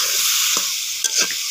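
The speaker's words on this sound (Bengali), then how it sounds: "দেখি একটু নাড়াচাড়া দিই আমি।" Vegetables (new potatoes, flat beans and eggplant) stirred in a pan over a clay stove: a steady hissing sizzle fills the whole moment, with a few soft scrapes of the utensil through the food.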